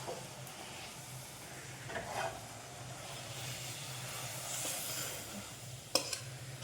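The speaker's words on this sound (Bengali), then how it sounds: "এদিকে খিচুড়িটা ফুটে গেছে সবজিগুলো বয়েল হয়ে গেছে এখন এটার মধ্যে দিয়ে দিব মশলাটা" A pot of khichuri with boiled vegetables bubbles on the stove, giving a steady hiss and sizzle with soft stirring, and a sharp clink near the end.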